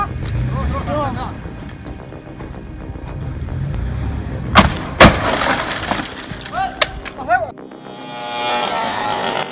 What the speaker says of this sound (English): the root fired back, shattering glass like a warning shot